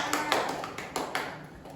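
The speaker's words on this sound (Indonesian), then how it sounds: "Tepuk tangan untuk Naina." Brief scattered claps in a primary school classroom, a few sharp irregular slaps that fade out over about two seconds rather than sustained applause.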